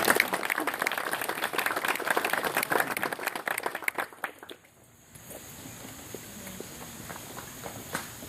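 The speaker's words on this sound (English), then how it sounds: "Give them a round of applause" Wedding guests break into loud, dense applause that runs for about four seconds, then cuts off sharply into quiet room tone with only a few scattered claps.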